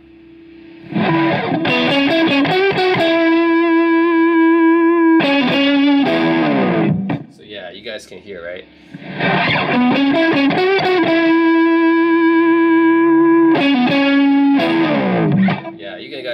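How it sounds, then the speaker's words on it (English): Electric guitar played through an overdrive pedal with the drive knob turned up, giving a gritty, sustained distorted tone in two long strummed phrases; a voice speaks briefly in the quiet gap between them. "dial up the drive, it'll just get hairier and hairier"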